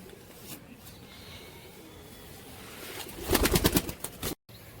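Rajshahi Giribaz pigeons coo softly against steady background noise, followed near the end by a brief louder flurry of sound.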